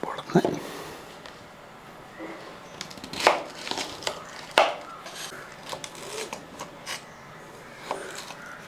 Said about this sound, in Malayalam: അപ്പോൾ അതെങ്ങനെ അരിഞ്ഞെടുക്കുന്നത് നോക്കാം